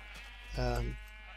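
A single short sheep bleat from the video game Minecraft, clear and fairly close, rising and fading within about half a second against a quiet background.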